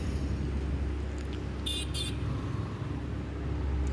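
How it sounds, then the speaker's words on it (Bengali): Cars pass on a road during a motorcycle ride in rural Bangladesh, heard as a steady loud rumble of engine and traffic noise with two short high tones partway through and no talking. "দুটো গাড়ি গেল"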